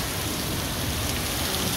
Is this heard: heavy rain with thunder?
yes